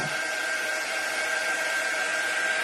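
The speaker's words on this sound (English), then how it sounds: "It is a drying tool. It does not get as hot as a heat gun." A heat drying tool, milder than a heat gun, blows focused air to dry chalk paste on a patriotic craft sign, giving a steady, close, loud whirring hiss with a constant motor whine and no talk.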